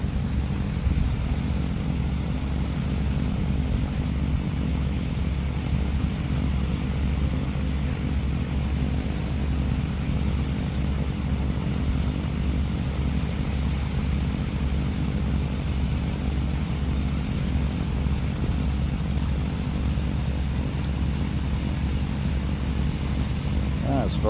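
Airplane coming in to land at a STOL short take-off and landing demonstration, a steady moderately loud engine drone throughout with no clear rise or fade, and people talking beneath it.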